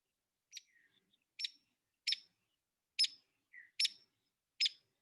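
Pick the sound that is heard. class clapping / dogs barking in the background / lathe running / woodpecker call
woodpecker call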